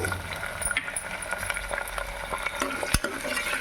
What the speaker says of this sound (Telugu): అన్ని కూరగాయలను ఆయిల్లోనే ఫ్రై చేసుకుంటే బాగుంటాయి